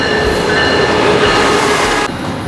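A train pulls through the Amtrak station in Richmond, a loud, close, continuous rumble and rail clatter with a faint metallic whine, dropping slightly at the end.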